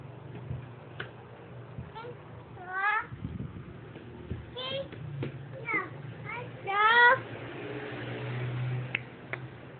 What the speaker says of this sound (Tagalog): Ayan yung cat.